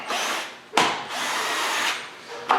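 A power tool buzzes in steady bursts while tightening lug nuts on a Dodge Caravan wheel, with two brief pauses and clicks between the whirring runs, close and loud.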